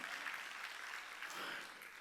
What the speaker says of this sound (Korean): 박수로 하나님께 영광 돌렸어.